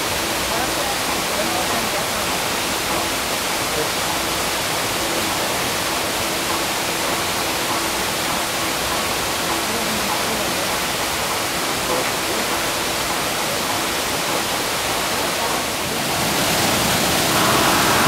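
River rapids in Canada, where salmon fight their way upstream, produce a steady, broad roar of rushing water that holds evenly throughout and swells slightly near the end.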